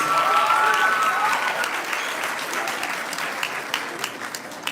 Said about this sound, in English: Now we can applaud.